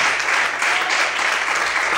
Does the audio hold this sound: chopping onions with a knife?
no